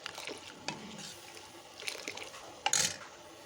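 Red lentil dal boiling in a pot, giving soft irregular bubbling and liquid pops, faint and close, with a couple of sharper splutters near the end.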